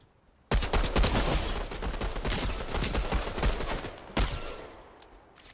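Rapid, dense gunfire from a Fortnite match erupts suddenly and stays loud, with overlapping bursts and shots blending into a continuous barrage before easing off near the end.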